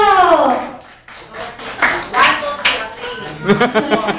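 Children at a kids' event clap in scattered, uneven bursts, with a voice and child chatter running over the taps.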